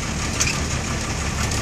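A motorcycle engine idles in the background near floodwater, a steady low rumble with no clear revving, continuous across the moment.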